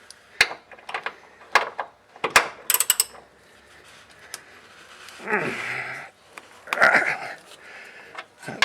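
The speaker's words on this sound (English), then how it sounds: "First I'm going to take out this 19mm bolt here." Wrench working a tight 19mm sway bar bolt on a Toyota Corolla's front suspension: sharp metallic clicks and ratcheting strokes, then a couple of longer grinding turns, close up and fairly quiet.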